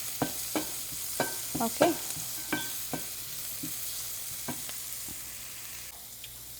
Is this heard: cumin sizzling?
yes